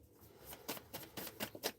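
Tarot cards being shuffled in a series of quick riffling bursts, crisp and close, with short pauses between.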